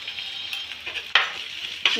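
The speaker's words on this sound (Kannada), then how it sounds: "ಚೆನ್ನಾಗಿ ಈರುಳ್ಳಿ ಎಲ್ಲ ಎಣ್ಣೆಯಲ್ಲಿ ಬೇಯಿಸ್ಕೊಳ್ಳಿ" Onions fry in oil for a dill and fenugreek greens dish, hissing with a bright, steady sizzle, broken by two sharp scrapes as they are stirred in the pan.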